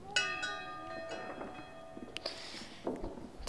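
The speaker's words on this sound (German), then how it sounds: "nochmal läuten" A large bell in the video game Brothers: A Tale of Two Sons is struck once, and its bright, ringing tone slowly decays while faint clatter and small thumps follow.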